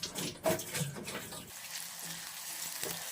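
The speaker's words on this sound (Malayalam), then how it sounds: "ഇതിലേക്ക് ഇട്ടിട്ട് ഇങ്ങനെ ഇളക്കി വറുത്ത് ഒരു ബ്രൗൺ കളർ ആകുമ്പോൾ നമുക്ക് കോരിയെടുക്കണം" Onions fry and get stirred in hot sunflower oil for chicken dum biryani, a brief close sizzle with scraping that fades to a quieter simmer.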